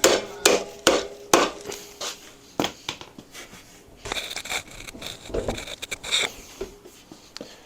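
An orange hammer strikes motorcycle parts during rear wheel and fork removal on an Ironhead XLCH, sharp metallic blows in an irregular series with scraping and rattling between them, close and loud.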